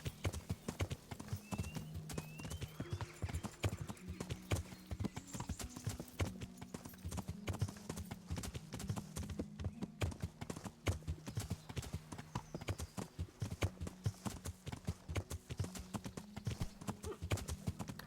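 Steady rhythmic clip-clop of horse hooves at a gallop in the video game Kingdom Come: Deliverance, continuous and fairly close, with an occasional faint whinny in the background.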